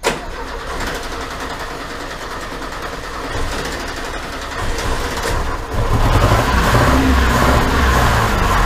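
An old 1980 VW Gol, left abandoned in a garage for ten years, cranks over and catches, its small engine settling into a rough, rising idle that grows louder toward the end, with no talking.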